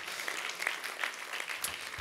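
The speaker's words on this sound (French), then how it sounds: "L'écho, ça va être la salle qui vous applaudit, chère Hélène" An audience applauds in a conference room, a fairly faint, steady patter of many hands clapping throughout.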